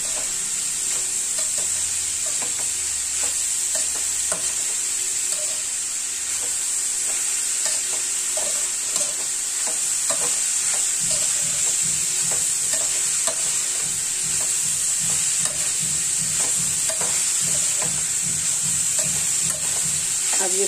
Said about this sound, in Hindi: अब इसको अच्छी तरह थोड़ा फ्राई होने देते हैं।